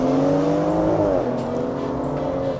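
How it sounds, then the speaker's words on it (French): A tuned car making 650 horsepower roars steadily at high revs close by, the engine note dipping briefly before holding loud and constant. "on va attendre que Ayrton nous fasse un démarrage de folie"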